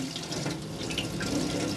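Water runs steadily from the kitchen tap of an Auto Sleeper Suffolk motorhome, a continuous close-up hiss and splash into the sink with no pauses.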